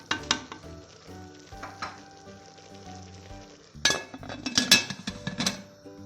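Dried beans sautéing in a pan for lokanta-style kuru fasulye, a steady sizzle broken by clattering stirs and scrapes of a utensil against the pot, busiest near the end.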